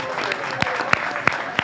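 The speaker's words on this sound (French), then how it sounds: "Et puis, vous pouvez l'applaudir, Aziz." Applause at a French building trade fair gathering, fairly light clapping with a few sharp, close hand claps standing out above the general patter.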